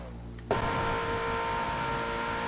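A Ferrari 488 Pista engine pulls hard at high speed, a loud sustained roar with a sharp jump in intensity half a second in, then a steady, dense high-revving drone close to the microphone.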